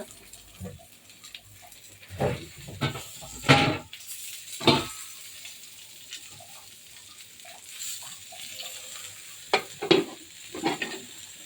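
Hilsa fish and eggplant fry in a pan while a utensil stirs them. There is a faint sizzle underneath, broken by sharp scraping and clinking strokes at intervals, with no talking.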